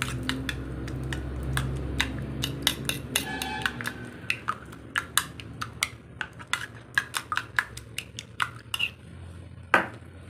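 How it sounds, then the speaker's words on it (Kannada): Egg beaten with chopped onion, green chili and salt in a bowl for an omelette, heard as a run of sharp clinking utensil taps against the dish, irregular and close, over a low background hum. "ರುಚಿಗೆ ತಕ್ಕಷ್ಟು ಉಪ್ಪು ಹಾಕ್ಕೊಂಡು ಚೆನ್ನಾಗಿ ಮಿಕ್ಸ್ ಮಾಡ್ಕೊಳ್ಬೇಕು ಇದನ್ನು ಕೂಡ."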